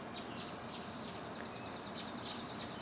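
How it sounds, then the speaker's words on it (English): A chipping sparrow's dry, rapid trill of evenly spaced chips rings out, faint and somewhat distant, over a quiet outdoor background. "Just heard a chipping sparrow."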